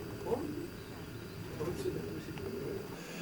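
Soft, low coos from racing pigeons in a loft repeat at intervals over a steady background murmur, with faint chirps in between.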